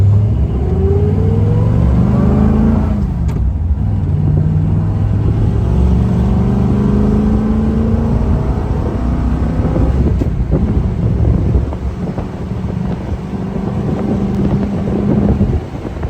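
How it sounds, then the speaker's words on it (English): A 1956 Ford Fairlane Sunliner convertible's engine revs up and climbs in pitch through several gear changes, loud and close, with heavy wind buffeting the microphone throughout. "Car shifts through all the gears the right way."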